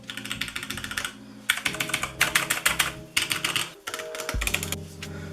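Someone types steadily on a HyperX Alloy Origins Core tenkeyless mechanical keyboard with HyperX Red switches, making quick runs of crisp key clacks broken by short pauses.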